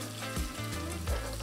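Chopped onion sizzles steadily in a hot pan with oil, a close, continuous crackle broken by a couple of soft scraping stirs.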